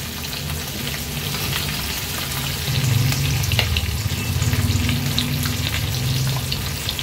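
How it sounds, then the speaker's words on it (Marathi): Two semolina-coated pomfret fish fry in hot oil over a low to medium flame, a steady close sizzle and crackle that swells slightly midway, with no voices. "आता हे दोन्ही पापलेट आपण लो टू मीडियम फ्लेमवर फ्राय करून घेणार आहोत"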